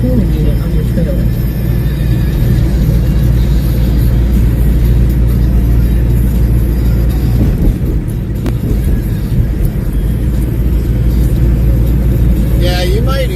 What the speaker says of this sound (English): reefer running. It's on continuous. It might have high idle.